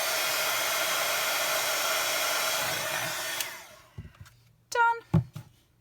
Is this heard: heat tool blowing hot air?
yes